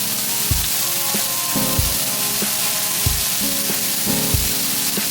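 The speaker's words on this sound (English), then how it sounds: "Now I'm going to add the maitakes." Maitake mushrooms sizzle and fry steadily in a hot pan of vegan ramen ingredients, with a continuous close crackle and several soft thumps and clatters as they are stirred in.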